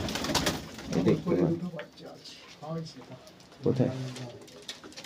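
Pigeons kept indoors in a dim room coo in repeated low, throaty phrases close by. Someone speaks Bengali over and between the calls.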